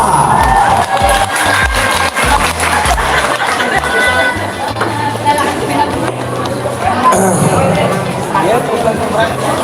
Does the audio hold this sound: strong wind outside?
no